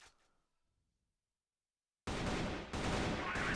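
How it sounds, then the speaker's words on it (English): Pot shots ring out through smoke in a CrossFire esports grand-final match. Near-silence gives way abruptly to a loud, sustained cluster of gunfire that continues to the end. "Some pot shots through the smoke."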